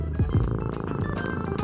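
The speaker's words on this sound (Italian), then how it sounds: "Probabilmente fanno anche le fusa." A domestic cat purrs close by in a steady, low continuous rumble that runs for under two seconds with no talking.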